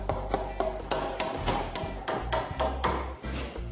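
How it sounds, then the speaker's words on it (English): A chisel struck with a hammer to cut out a notch in a timber rafter during a renovation, about a dozen sharp taps in an uneven rhythm, close but moderately quiet. "do you want to chisel that out?"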